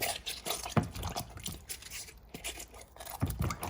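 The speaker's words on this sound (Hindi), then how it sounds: "नमक के बाद मैंने इनको 10 मिनट रखने के बाद अभी अच्छी तरह पानी से धो लेंगे।" Salted bitter gourds are rinsed under water in a home kitchen, giving irregular splashing, dripping and scraping with a few sharper knocks, close and moderately loud throughout.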